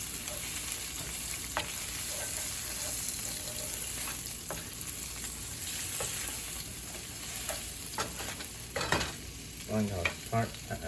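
Spinach with onion wilting in a pan on the stove, a continuous low sizzle with light stirring scrapes and a few utensil knocks near the end, close and moderately quiet, no voices.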